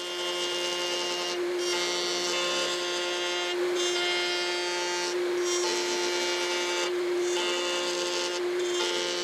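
A router trims the outer edge of a round oak wooden frame using a two-bearing setup, giving a steady, loud high-pitched whine with a rasping cutting texture that surges in repeated passes, with no talking.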